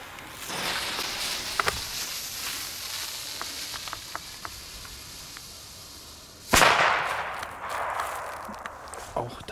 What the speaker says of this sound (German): jetzt kommen hier die Weco China Böller D